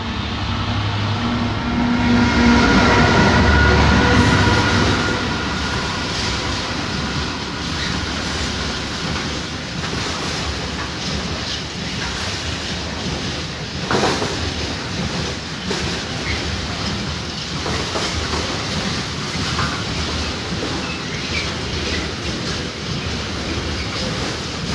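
A Class 66 freight locomotive rumbles past a level crossing at Lincoln Central, loud at first then settling into a steady rolling clatter of wagons that carries on without talk.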